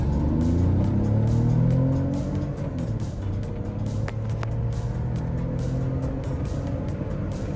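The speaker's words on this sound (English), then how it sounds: "Here's a little 0 to 100 run we did after the performance issues had been" Ford EA Falcon XR6 with a Barra engine swap pulls hard from 0 to 100 km/h, a steady engine roar rising through the gears with brief shift pauses, heard from inside the car.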